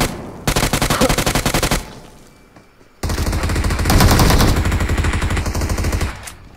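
Gunfire from the mobile battle-royale game BGMI (PUBG Mobile) comes as two loud, rapid automatic bursts separated by a short lull, with a brief final shot at the end.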